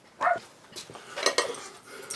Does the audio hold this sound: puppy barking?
yes